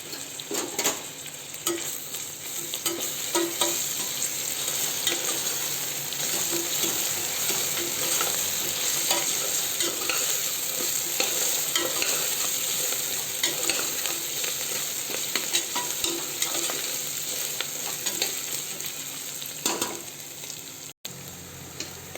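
Ginger garlic paste fries and is stirred in a pan, giving a steady, close oil sizzle with small ticks and scrapes of the spoon throughout, sustained and fairly loud.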